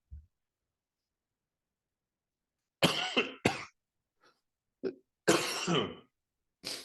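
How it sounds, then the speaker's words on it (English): Several harsh coughs and throat clears during a university lecture, in short bursts after a quiet stretch, close and loud, with brief pauses between them. "One day I will be free of this cough."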